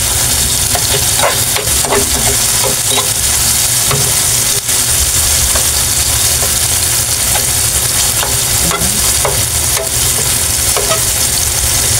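Aromatics sizzle and fry steadily in a pan for a Filipino mung bean stew with smoked fish, with occasional stirring scrapes and clicks over a constant close frying hiss, and no talk.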